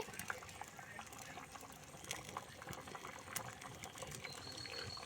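Fish curry made with bata fish, potato and pointed gourd simmers in a pot, giving a faint, continuous bubbling with scattered small pops and clicks in a quiet kitchen.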